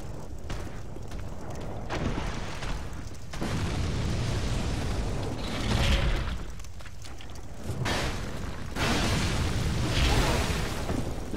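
Heavy booming blasts and cannon fire from the video game Dark Souls II roll through a dense, continuous battle din, with repeated explosive swells and no clear gaps between them.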